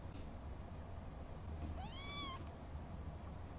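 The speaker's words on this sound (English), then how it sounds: "That's an actual kitten." A real kitten gives a single short, high meow, faint and a little distant, over a steady low background hum from a room where people are watching a TV drama.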